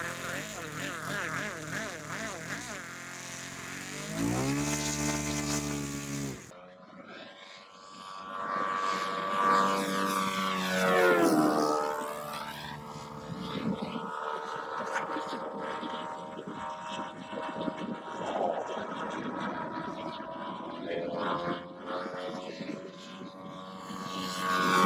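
A Hangar 9 P-47 radio-controlled model warbird with an oversized 30cc gas engine buzzes and drones, its pitch swooping up and down as it passes, with a voice talking at times.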